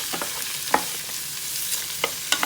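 Sliced onions sauté with a shrimp stew base in a Power XL cooker, giving a steady close hiss broken by a few light clicks and scrapes of stirring.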